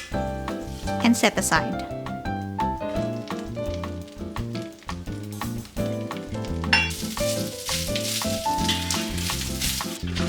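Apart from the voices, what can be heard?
snap peas frying in oil in a pan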